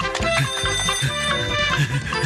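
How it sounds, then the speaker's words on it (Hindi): A phone ringtone plays repeatedly in a Doraemon cartoon, a bright melodic electronic ring cycling in a steady pattern over a backing beat. "अरे फोन आ रहा है।"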